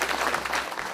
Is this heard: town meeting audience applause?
yes